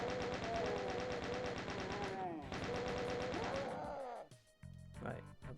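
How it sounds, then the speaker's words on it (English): Chaingunner enemies in Doom II on PC, their chainguns rattling in fast, dense bursts, loud and close, with a short break between volleys before a final tail of shots; someone talks over the gunfire. "chain gunners. Make sure you get all of them"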